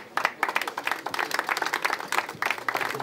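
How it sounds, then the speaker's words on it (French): An audience at a partners' evening for a tennis tournament claps in dense, sustained applause that rises and dips slightly over a few seconds. "On peut l'applaudir."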